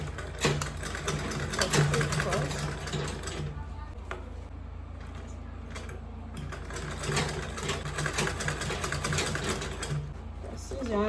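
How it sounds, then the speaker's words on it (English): A sewing machine stitches closed the bottom of an Ankara fabric bag, its motor whirring steadily and close in runs with brief pauses, while a person talks over it. "I'm going to sew this bottom close first"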